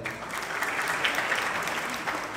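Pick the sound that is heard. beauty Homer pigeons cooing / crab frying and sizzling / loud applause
loud applause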